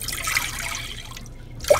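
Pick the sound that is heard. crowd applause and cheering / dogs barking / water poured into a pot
water poured into a pot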